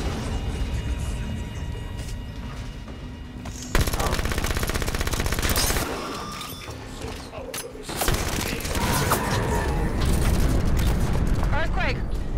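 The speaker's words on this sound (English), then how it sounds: "Turrets on and firing." Auto-turrets in Halo 5 Guardians open up in sustained rapid bursts against Prometheans, dense mechanical gunfire with booming impacts and explosions, loud and continuous, with voices speaking over the battle.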